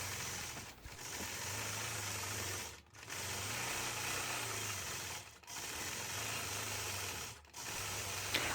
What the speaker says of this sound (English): I do all of my quilting on a Gamel 22-inch long arm machine